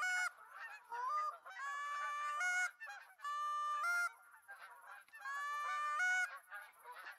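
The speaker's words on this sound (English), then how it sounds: "a nice flock of geese flying overhead" In theHunter: Call of the Wild, a flock of Canada geese passes overhead, sending out several strong waves of overlapping nasal honks with short gaps between them, close and prominent, and nobody speaking.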